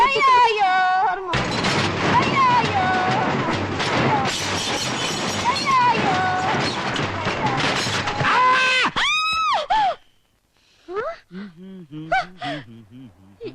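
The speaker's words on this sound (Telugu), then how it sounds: "ఏంటి నాకేదో అరుపు వినిపించింది" A short scream rings out nearby in a tense movie scene, a brief loud cry set against dense background music, followed by gasping and scattered vocal sounds.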